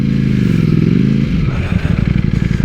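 An Italian superbike engine rumbles loud and close while filtering through traffic, a steady throaty idle that shifts into a pulsing, chugging beat partway through.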